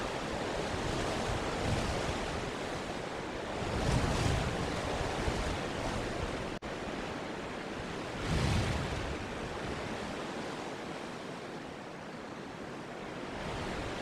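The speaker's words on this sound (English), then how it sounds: "It's a very windy day here in Wisconsin." Strong gusting wind roars across the microphone in Trempealeau, Wisconsin, swelling in louder bursts and easing again, with no voices.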